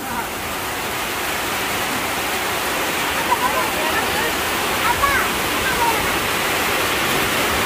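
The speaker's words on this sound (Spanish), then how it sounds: "¿Será que va a tardar lloviendo ahorita?" Heavy rain pours in a dense, continuous roar of hissing water with no breaks, loud and enveloping, with a few faint thin sounds flickering over it.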